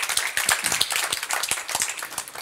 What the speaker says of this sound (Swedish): De är väl värda en applåd